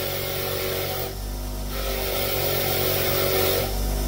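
An unguarded angle grinder cleaning up a Lister D engine, a loud continuous whine with harsh broadband grit that dips briefly as the tool eases off, then rises again.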